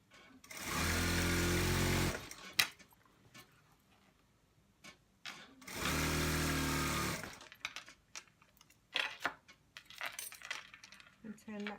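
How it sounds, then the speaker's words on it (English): Sewing machine stitching the hem of a boy's shirt in two steady whirring bursts of about a second each, with quiet handling clicks and fabric rustles between them. "And now sew your hem."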